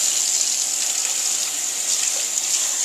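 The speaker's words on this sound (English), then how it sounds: "So I get that rinsed out." Running tap water pours steadily and close as shrimp are rinsed under it, a continuous hiss of splashing water with no talk.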